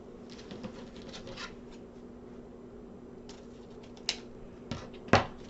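Scissors cut ribbon tails in a quiet room, with soft rustling and then a few sharp, isolated snips near the end, the final one the loudest and closest.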